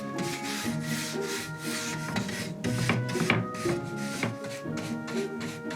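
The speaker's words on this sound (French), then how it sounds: "La prochaine étape va être ici de poncer toutes les parties extérieures pour pouvoir ensuite peindre l'ensemble." Sandpaper rubbing over the outer parts of a wooden picture frame before painting, a close, steady back-and-forth rasp in repeated strokes with no talking.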